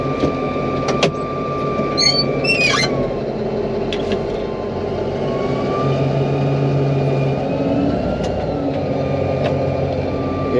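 A D11 bulldozer, bogged and under recovery, revs hard in first gear with a loud, steady heavy-engine drone that holds for the whole stretch, broken by a few brief higher squeals.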